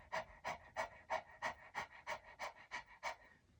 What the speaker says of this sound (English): You can start with your mouth open, panting like a dog.